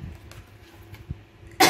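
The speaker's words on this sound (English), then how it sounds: "I think it's causing me to cough a little bit" A single muffled cough over steady background noise from running fans, followed by a sudden loud burst of breathy noise at the end.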